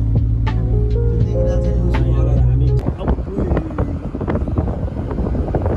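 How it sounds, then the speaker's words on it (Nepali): Gusty wind buffets a microphone outdoors at Bhattedanda in a low, rumbling roar, with a steady engine-like hum at first that gives way to rougher gusts. "यो हावा हेर्नुहोस्"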